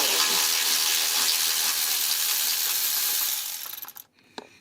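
Ratchet turning a bolt on a 2010 Ford F150 during a power steering pressure hose replacement, a steady fast clicking for several seconds that slows and stops, ending with a sharp metallic tap.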